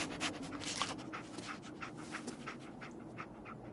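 Companion dog Dogmeat in a video game pants in quick rhythmic breathy puffs, close and fairly soft, over a faint steady background hum.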